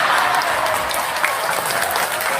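Audience applause at an Indonesian religious talk in Morowali, a dense steady wash of many hands clapping at even loudness throughout, with no voices rising above it.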